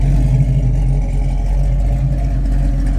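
A 1967 Chevrolet Nova Super Sport with a performance cam and dual exhaust runs close by, holding a loud, steady, deep rumbling idle with a lumpy, pulsing throb throughout.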